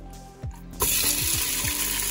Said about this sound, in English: So we're just gonna toss this in the frying pan, which is already hot.